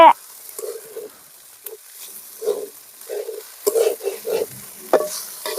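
Onions or spices being stirred and sautéed in a pan over a village stove while preparing coconut rice, with intermittent scraping and stirring bursts over a faint sizzle, close by and fairly loud.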